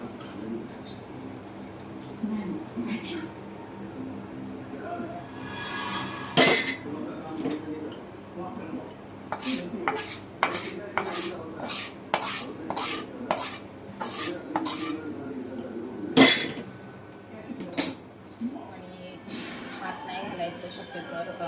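A spoon stirs a hot mixture of edible gum and fenugreek laddu in a pot, with sharp metallic clinks and scrapes in a quick irregular series, loud and close, under occasional talk.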